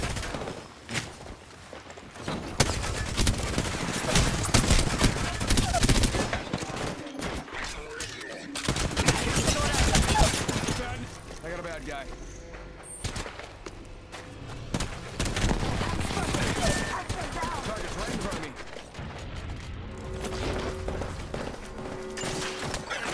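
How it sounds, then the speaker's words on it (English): Rapid gunfire bursts and fusillades in the battle royale shooter Apex Legends ring out almost nonstop, loud and close, with thumps and a player's voice talking over the shooting now and then. "Listen up, I'm getting shot at."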